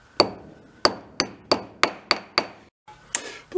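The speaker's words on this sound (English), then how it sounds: "I'm sure I'll whack it with a hammer" A hammer strikes a metal pin during repair of an old Chrysler Sno-Runner snowmobile, with eight sharp, ringing blows at a fairly even pace and a short pause before the last two, loud and close.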